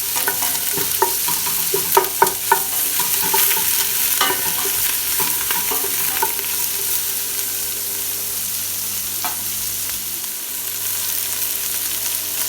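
Onions and black pepper sizzle steadily in a hot pan for tomato and fig chutney, with a few clinks and scrapes of stirring early on and a constant crackling hiss throughout.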